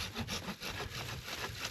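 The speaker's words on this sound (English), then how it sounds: "Matt insisted on using the handsaw instead of the chainsaw." A handsaw cuts through a fallen tree on a steep desert trail, its blade rasping in quick, even back-and-forth strokes, close and fairly quiet with no voices.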